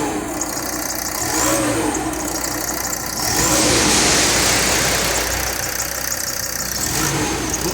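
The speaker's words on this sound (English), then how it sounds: "Now we're just going to give it a few revs." A 2007 VW Crafter 2.5 TDI diesel with 153k miles is revved from a cold idle: the engine climbs in two rises and falls back, a close and steady mechanical drone.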